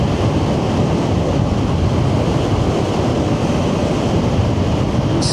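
Strong wind roaring across the microphone while riding, a loud, constant buffeting rush with no breaks throughout.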